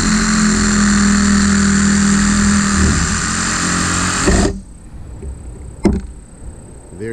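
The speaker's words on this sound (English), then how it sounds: "I'm just going to do that using a battery powered Sawzall" A battery-powered Sawzall cuts through a strut bump stop with a loud, close, buzzing reciprocating drone that runs steadily for about four seconds and then stops abruptly, followed by quieter handling noises and one sharp knock.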